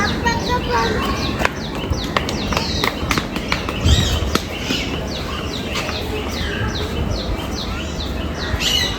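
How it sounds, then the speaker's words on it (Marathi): Birds call and chirp from a bamboo-framed aviary at Byculla Zoo in Mumbai, scattered chirps and short calls over a busy background of crowd noise and talking voices. "इकडे खूप असे आम्हाला पक्षी पाहायला मिळते जे मस्तपैकी त्या झाडावरती बसलेत"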